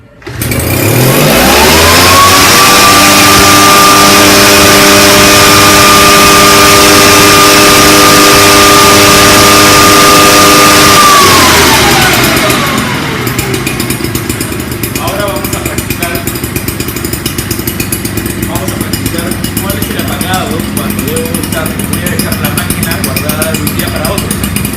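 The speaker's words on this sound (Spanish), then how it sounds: "Como hemos apagado desde la llave de aceleración, la máquina debe encender con una sola jalada." A PORT 423 backpack mist blower's engine starts and climbs to a loud, steady high-revving drone that holds for about ten seconds, then drops to a quieter, rougher idle.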